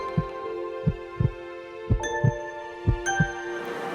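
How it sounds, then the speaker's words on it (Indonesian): A fast heartbeat sound effect thumps in quick double beats, loud and close over sustained tonal music. "Kenapa jantung saya jadi berdegup cepat gini?"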